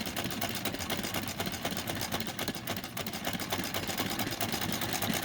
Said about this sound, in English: with the hand crank, they sew as fast as you want it to